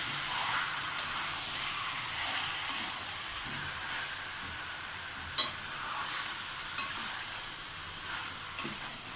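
Marinated chicken being stirred in a hot pan with no water added, giving a steady hissing sizzle broken by a few sharp spatula knocks, close by and with no voices.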